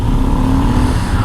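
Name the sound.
motorcycle passing on the road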